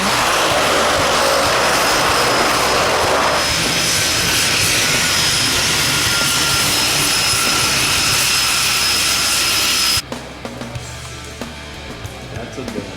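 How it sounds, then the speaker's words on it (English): Aircraft on an Alaska moose hunt trip approaching with a loud, steady engine drone that dominates for about ten seconds, then cuts to quieter background with scattered small knocks. "Here comes our plane."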